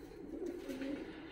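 A Georgian fighting pigeon coos in Tbilisi, a faint, low, steady rolling coo lasting about a second over quiet background.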